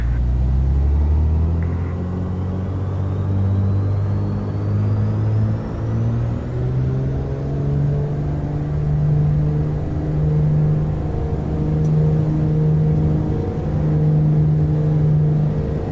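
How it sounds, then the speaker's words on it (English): Twin piston engines of a Duke B60 in Microsoft Flight Simulator run up to full takeoff thrust, giving a loud, steady droning rumble with layered harmonic tones that rise slightly in pitch as the aircraft accelerates, with no voices. "So we have full takeoff thrust."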